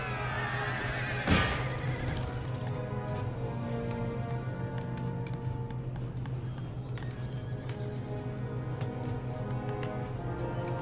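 Horses neigh amid the battle soundscape of Empire Total War, a loud whinny rising near the start over steady game ambience, music and distant combat noise running throughout.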